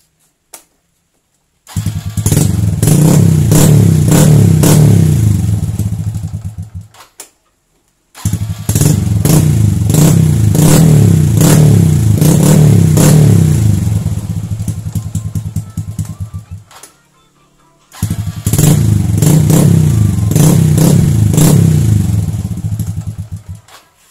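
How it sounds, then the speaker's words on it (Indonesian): Honda Absolute Revo motorcycle engine started three times in a row, close by. Each start runs loudly for several seconds, idling and revving, then cuts out into silence. "motor ini kuat di starter"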